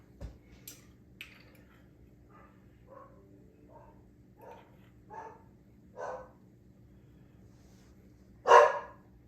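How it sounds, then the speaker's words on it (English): A dog in a home kitchen barks in a sparse series of short yips and woofs, mostly faint and spaced a second or more apart, ending with one louder, closer bark. "He barks at everything and everybody."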